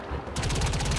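A rapid burst of video game gunfire rattles off in quick, evenly spaced shots, loud and close for about a second.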